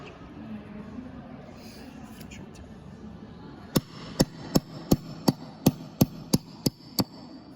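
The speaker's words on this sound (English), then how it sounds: "Take your hammer and you're going to tap that out." A hammer taps a punch to drive the pin out of an AR-15 bolt carrier group: about ten sharp, evenly spaced metallic strikes, close and crisp, over a quiet room hum.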